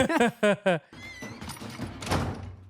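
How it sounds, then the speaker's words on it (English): Voices speak briefly, then a door slams with a dull, heavy thud and some rattling, loud and close. "you just slam my door?"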